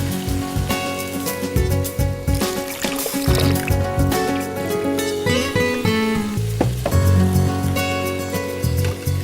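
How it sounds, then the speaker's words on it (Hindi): A steady, crackling sizzle of spice paste frying over high heat in a pan continues throughout, with music playing underneath. "अब इस मसाले को भुनना है हमने तेज आंच पर तकरीबन 10 मिनट के लिए"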